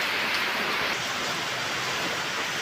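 Heavy rain pours down steadily, a dense, constant hiss with no breaks and no voices.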